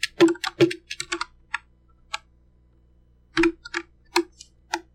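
Computer keyboard typing of a code comment in Visual Studio 2019 Community: a quick burst of close key clicks, a few isolated taps, then another short flurry of keystrokes in a quiet room.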